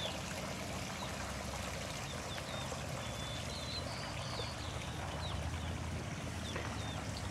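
Water in a backyard pond trickles in a steady, soft wash that runs the whole time, with small birds chirping faintly overhead.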